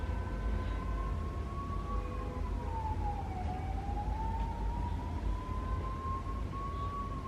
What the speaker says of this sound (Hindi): Fire brigade.